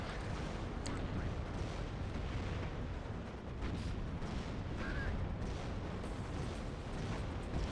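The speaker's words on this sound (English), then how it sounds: "I'm glad that we have artillery landing." Artillery shells landing in the WARNO wargame, with dense, continuous rumbling blasts and thuds overlapping into a roaring barrage, loud and unbroken across the whole stretch.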